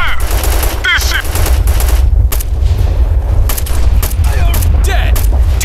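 Heavy automatic gunfire rattles in rapid bursts throughout a firefight in the video game Operation Flashpoint: Red River, loud and close, with voices briefly heard between the volleys.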